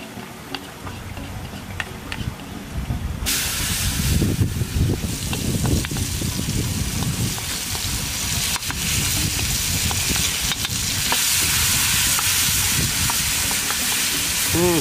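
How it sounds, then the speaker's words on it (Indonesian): Food frying and being stirred in a pan for seblak starts quietly, then swells into a loud, continuous sizzle with repeated clicking taps of a utensil against the pan. "Lanjut goreng."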